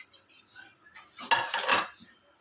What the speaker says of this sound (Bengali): সব আমি কড়াইতে দিয়ে দিলাম। মশলাগুলো একটু ফ্রাই করে নেব।